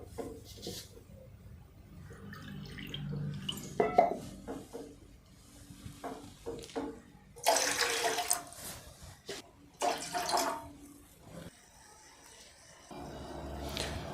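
About two and a half cups of water are poured into a pot for making tea, giving intermittent splashing pours that rise and fall, close by and with no talk.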